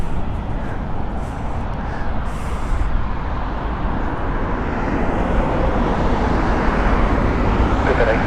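An articulated lorry rumbling past close by on a road near Heathrow Airport, a loud low engine drone that swells and shifts as it goes by, with a faint whine in the background.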